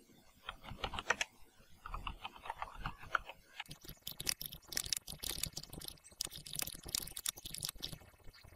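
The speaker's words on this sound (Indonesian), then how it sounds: "Di sini saya akan ketikkan" A computer keyboard is typed on steadily at close range, with soft, quiet clicks and tapping in irregular bursts that grow denser toward the end.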